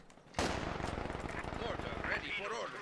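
Sustained MG42 machine gun fire in a World War II strategy video game, starting abruptly into a dense, rapid, even stream of loud shots, with a commentator talking over the burst.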